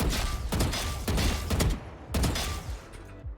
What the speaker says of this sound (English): you can always like shoot the practice box over here and just test it out